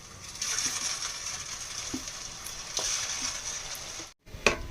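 Food frying in a pan in a home kitchen, a steady broadband sizzle lasting throughout with a few brief clicks and a short drop to silence near the end, no talking.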